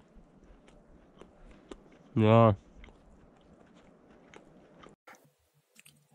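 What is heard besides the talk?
chewing crunchy frozen potato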